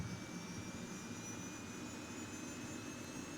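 A helicopter turbine engine spins up in a flight simulator game, giving a steady, continuous whine over a broad rumbling roar that holds an even level throughout, with no talking.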